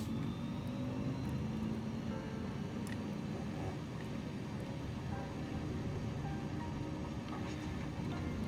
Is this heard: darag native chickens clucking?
no